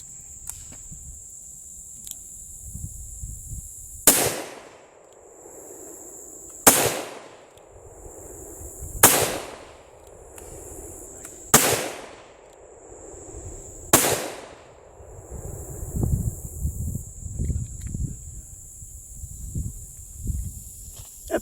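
Five sharp .38 Special pistol shots fired from a handload of 2028 powder under a 125 grain Lyman cone bullet, evenly spaced about two and a half seconds apart, each a loud crack that decays into echo over a faint outdoor background.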